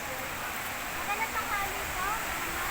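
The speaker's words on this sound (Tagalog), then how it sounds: "Yung waterfall." A waterfall at Villa Escudero rushes in a steady, broad hiss from nearby, with faint voices talking over it.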